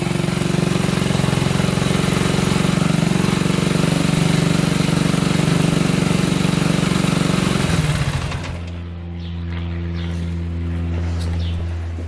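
Honda 250X motorcycle engine idling while low on gas, a loud, steady droning idle that drops and changes to a lower, uneven tone near the end.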